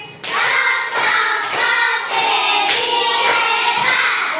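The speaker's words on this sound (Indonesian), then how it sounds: "tepuk hebat dulu untuk Pepi" A classroom of students claps together in a steady, full round of applause for a classmate, the sustained patter running loudly and evenly from start to finish with no talk over it.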